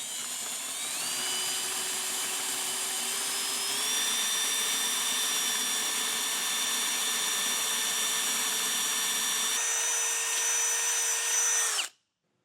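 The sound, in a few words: drilling a frame hole with a 1/2 inch drill bit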